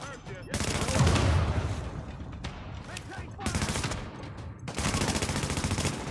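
Rapid bursts of automatic gunfire from a firefight in The Division, a third-person shooter, come in three loud, dense volleys separated by short lulls, with some talk underneath.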